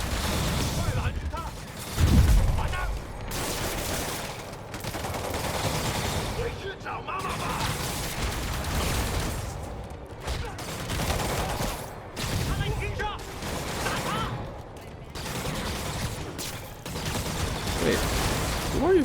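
Sustained bursts of gunfire in the video game Marvel's Spider-Man, rapid volleys and booming shots filling the scene continuously, with voices talking over the din.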